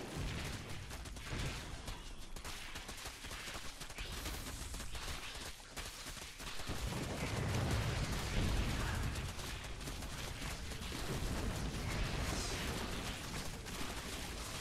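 A StarCraft 2 drop attack destroys a marine and a siege tank inside a main base, a continuous clatter of rapid gunfire and small explosions, busy and mid-loud, swelling halfway through with heavier booms.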